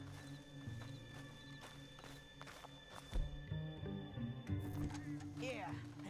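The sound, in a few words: horse hooves in Red Dead Redemption 2 video game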